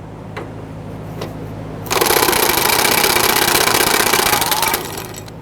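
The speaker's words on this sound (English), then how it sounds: "I'm going to switch over to our air tools to speed things up a little bit." A pneumatic air tool rattles loudly for about three seconds while removing a fuel tank strap bolt on a 2005–2021 Nissan Frontier 4.0L V6, preceded by a couple of faint clicks.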